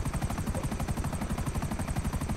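A GTA 5 video game helicopter roars with a steady rapid rotor chop, loud and close, continuous throughout with no talk over it.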